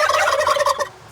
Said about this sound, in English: What do you turkeys say to that?